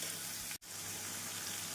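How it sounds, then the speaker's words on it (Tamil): Ginger garlic paste sautéing in a pan for ghee rice makes a continuous close sizzle, cut by one very brief silent gap partway through, with no talk. "இஞ்சி பூண்டு விழுது சேர்த்து நன்றாக வதக்கிய பின்னர்"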